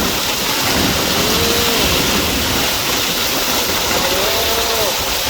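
A heavy summer-storm hail shower in Sisaket pours down as a loud, constant rushing patter, while faint voices rise briefly twice beneath it.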